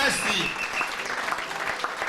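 A church congregation claps and cheers in worship, a dense wash of applause with voices calling out over it, close and lively.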